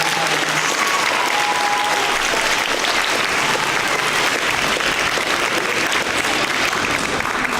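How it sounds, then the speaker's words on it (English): Dense applause from an audience at a school spelling bee, a steady wash of many clapping hands filling the room for several seconds without a pause. "Give all of these students a big round of applause"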